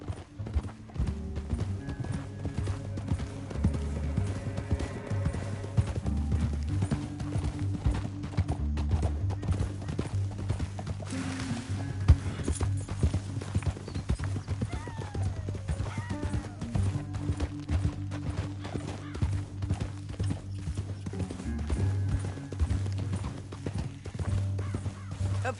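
Horses galloping in Red Dead Redemption 2, rapid continuous hoofbeat clip-clop running steadily under a music score, with an occasional whinny and faint mechanical rattles.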